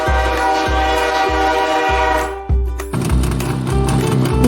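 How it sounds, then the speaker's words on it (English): Train horn from a children's vehicle-sounds sequence, sounding loud and steady with rhythmic clattering of rail wheels beneath it and a brief shift in tone midway. "Train."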